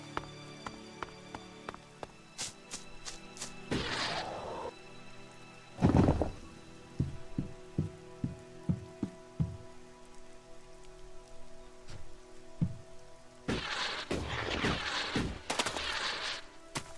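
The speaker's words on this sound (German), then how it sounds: "wieso regnet das denn eigentlich immer?" Steady rain patters on surfaces in the fantasy role-playing game Elex, with scattered sharp clicks and several louder bursts of game sound over the constant wash.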